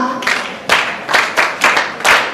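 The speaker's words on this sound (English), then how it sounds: "Clap for her." Students in a secondary school classroom clap for a classmate in a few quick, loud bursts of group clapping, close and uneven.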